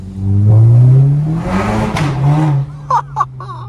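A Volkswagen Golf 7 GTI facelift with a stage 2 tune accelerates through a short tunnel, its exhaust booming loud and close as the engine drone rises in pitch, followed by a few sharp crackles and pops as it lets off.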